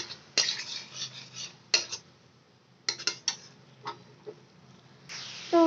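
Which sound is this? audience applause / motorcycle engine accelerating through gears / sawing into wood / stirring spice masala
stirring spice masala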